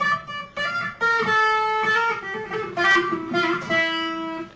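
A single guitar plays a short melodic riff, hammering on and pulling off so notes slur smoothly with light legato articulation, moderately loud and alone.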